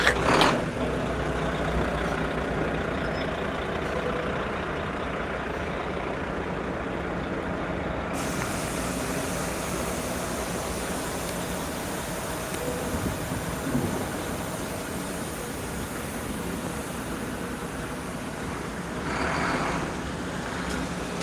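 A city bus pulls up amid traffic, its engine a steady broadband rumble that shifts partway through, with brief hissing bursts like air brakes releasing near the end.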